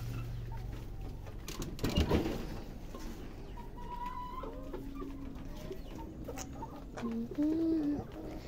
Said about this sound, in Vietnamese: Toàn cứ gà thôi.